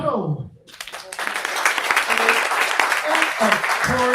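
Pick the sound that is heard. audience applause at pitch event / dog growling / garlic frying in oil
audience applause at pitch event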